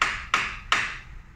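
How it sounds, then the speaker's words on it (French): A light hammer taps a wooden window frame with small muntins three times, crisp separate knocks at an even pace, each ringing briefly before fading in a quiet room. "un petit coup de marteau"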